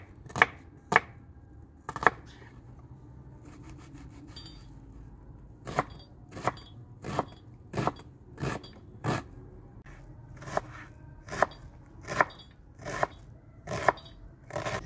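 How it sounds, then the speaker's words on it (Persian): Two onions are finely diced with a knife on a board, a series of sharp, close chops, first sparse and then in a fairly regular rhythm of about one per half second, with faint rustling between strokes. "حالا 2 تا پیازو نگینی خورد میکنی."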